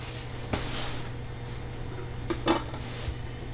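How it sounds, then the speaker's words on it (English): A plate set down on top of a chocolate mold gives a few light ceramic knocks and clinks, one near the start and a brighter cluster around the middle, against a low steady background hum. "To demold, place a plate on top,"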